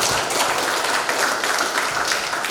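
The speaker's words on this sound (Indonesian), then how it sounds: "Tepuk tangan untuk kita semua." Congregation applauding at a parish welcome for a new priest, a loud continuous patter of many hands that stays dense and even throughout the short stretch.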